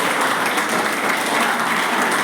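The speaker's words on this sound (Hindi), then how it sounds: "आपके मम्मी के लिए तालियां बजाइए।" Steady, close crowd applause fills a short stretch at a coaching institute event in Ranchi, Jharkhand, with many people clapping together at an even, full level and no speech on top.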